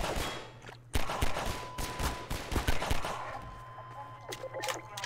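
Rapid bursts of gunfire in Half-Life 2, sharp repeated shots crackling close and fairly loud, thinning into scattered single cracks toward the end.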